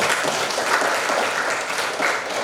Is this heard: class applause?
yes